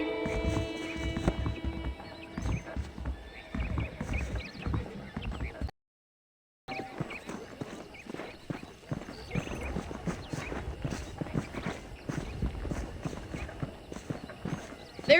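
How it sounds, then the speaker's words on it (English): Hooves clip-clop steadily as horses move in the video game Red Dead Redemption, with an occasional whinny and some talk over a brief silent gap. "The horses are saddled up over here."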